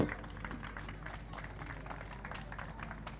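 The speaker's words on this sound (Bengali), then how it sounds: "একটু জোরে হাততালি হোক।" An audience at a drama staging breaks into sustained applause, steady and fairly soft, filling the room with continuous clapping under faint crowd murmur.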